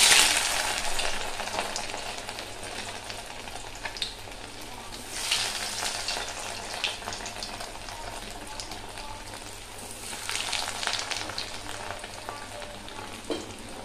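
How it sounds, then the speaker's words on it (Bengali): Fish fingers fry in hot oil in a wok, giving a loud steady sizzle with crackling swells as pieces go in one by one, alone without talk. "এবার আমি একটা একটা করে ফ্রাই করে নেব"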